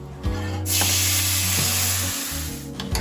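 Banana blossom added to hot mustard oil in a wok: a loud, steady sizzle bursts up and holds, with a low hum and faint stirring scrapes underneath.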